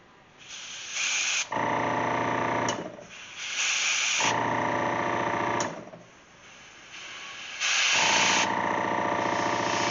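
An airbrush sprays small white paint spots onto a frog-style topwater popper lure in three loud, steady hissing bursts separated by short pauses.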